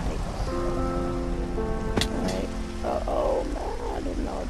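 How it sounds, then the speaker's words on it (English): Steady rain hisses down at night in Minecraft on PS4. The continuous wash of rainfall is joined by sustained musical tones and a brief sharp crack midway. "it started raining really bad during the night."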